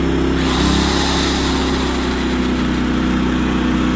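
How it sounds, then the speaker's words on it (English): A propane-fueled generator runs steadily at full power, a constant close engine drone with no pauses or variation. "the generator kicked in to make some extra power."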